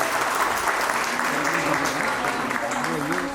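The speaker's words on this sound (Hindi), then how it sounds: "एक बार तालियों से इनका स्वागत।" An audience at a staged Jain religious play in Gwalior applauds in a dense, continuous burst of clapping, with a voice faintly present beneath it.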